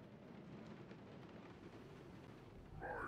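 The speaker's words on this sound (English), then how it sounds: "Of course. It had to be raining." Steady rain with a low rumbling undertone in the Guardians of the Galaxy video game, a dense, faint hiss of falling water that holds evenly, swelling slightly near the end as a tonal sweep cuts in.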